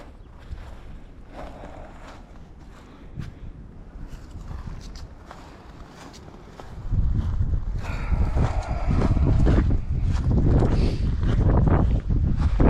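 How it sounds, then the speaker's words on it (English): Gusty wind buffets the microphone outdoors beside a right-hand-drive 1995 Jeep Cherokee, a steady low rumble that roughens and grows much louder about halfway through. "Got a lot of wind here, so might not be able to hear me very well."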